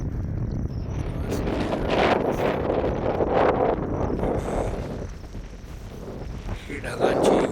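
Wind blowing across a green hilltop plateau under cloudy monsoon skies, with gusty buffeting rumble against the microphone rising and falling throughout while a person talks over it.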